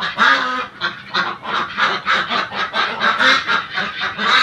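Ducks on a duck farm call loudly and continuously, a dense overlapping chorus of honking quacks pulsing in quick irregular bursts with no talk over it.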